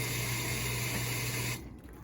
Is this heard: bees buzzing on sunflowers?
no